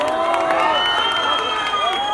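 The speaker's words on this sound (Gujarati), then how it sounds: "તમારા માટે એકવાર પ્લીઝ તાળીઓ પાડી દો." An audience at a restaurant inauguration cheers and shouts together in a loud, sustained roar of many voices, with clapping mixed in.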